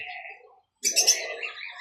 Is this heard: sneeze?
no